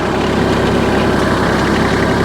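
Tractor running a hay tedder at about 1,300 RPM, stirring thick hay on a farm: a steady, loud engine drone with low rumble and vibration, continuous and close, with no voices.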